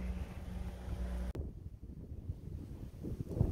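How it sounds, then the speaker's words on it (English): Strong wind buffets the microphone with a low, rumbling roar, easing briefly after a sharp bump and then gusting up again. "So it's super windy out here"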